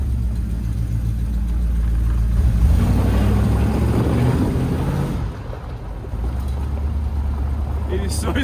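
A Ford Bronco with a 351 engine is driving, heard from inside as a loud, continuous rumble of engine, road and wind, with a voice faintly underneath.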